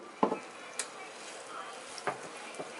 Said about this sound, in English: You can see the sizzle.